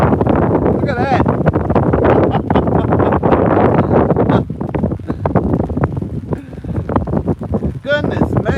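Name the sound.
strong wind on the banks of the Burnett River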